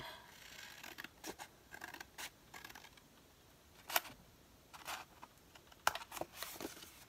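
Scissors trim the edge of a paper page for a craft mini journal, giving a series of soft, close snips and rustles spread over several seconds, with two sharper clicks standing out in a quiet room.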